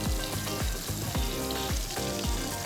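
Hand-shaped patties fry in a skillet until cooked through, giving a loud, continuous sizzle with regular rhythmic pulses of stirring or shifting roughly every third of a second.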